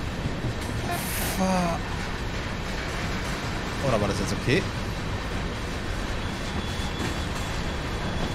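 In Train Sim World 3, a train rumbles along the track with a steady, dense running noise and a few brief squeaks, while someone speaks briefly over it.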